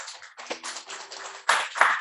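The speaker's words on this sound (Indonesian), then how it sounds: "Yang setuju berikan tepuk tangan." A church audience answers a preacher with applause, bursts of overlapping hand claps in a reverberant hall that rise again in a louder wave near the end.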